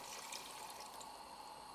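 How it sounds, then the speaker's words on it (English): Veal stock pours into a pan already holding bubbling Burgundy wine, a soft steady liquid stream lasting under two seconds, faint and alone with no talking. "Place in the veal stock."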